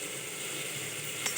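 Steady sizzling of onions sautéing in a pan, a continuous soft hiss with a faint clink near the end; no voices.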